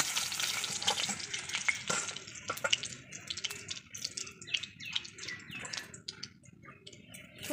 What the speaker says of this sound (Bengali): মাছটা আমি এখানে একটু কড়া করে ভেজে নিলাম